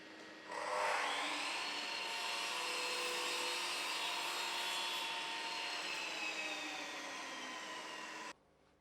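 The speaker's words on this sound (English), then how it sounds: "Adjust the chop saw to the same angle as the sliding bevel and cut an internal mitre on the" Chop saw cutting an internal mitre in wooden skirting board, whining up to speed and then grinding through the wood in one steady, loud cut for about eight seconds before stopping abruptly.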